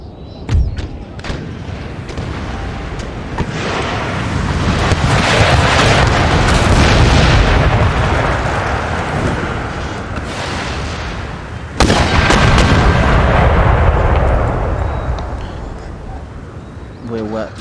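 Artillery and mortar fire during a siege of Brussels in Empire: Total War, a dense, continuous rumble of booms and blasts with a sharp burst near the end, under someone talking.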